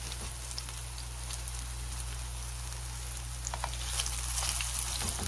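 Bananas frying in a small amount of cooking oil give off a steady, close crackling sizzle with a faint hum underneath, growing slightly busier toward the end.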